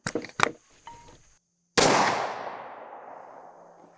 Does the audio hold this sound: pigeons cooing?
no